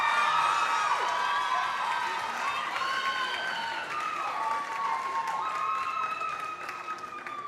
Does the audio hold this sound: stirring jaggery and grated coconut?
no